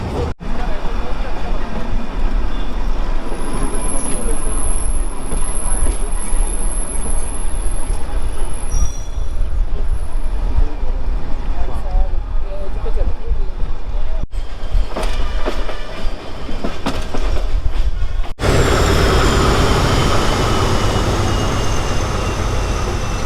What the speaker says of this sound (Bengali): এই টয় ট্রেনের গতিবেগ কিন্তু খুব একটা বেশি নয়, 15 থেকে 20 কিলোমিটার/আওয়ার এই গতিবেগেই ছুটে চলেছে টয় ট্রেন